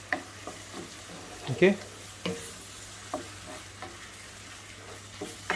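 A spoon scrapes and taps through tomato coulis in a cooking pan over low heat, irregular soft knocks and scrapes above a quiet simmer, with a brief word spoken.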